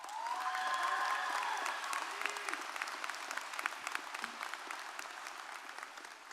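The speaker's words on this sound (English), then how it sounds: "kindly give the parents and grandparents in the room a big round of applause once again" Audience applause fills a high school graduation ceremony hall: a steady wash of many hands clapping at moderate loudness, strongest at the start and easing slightly while continuing throughout.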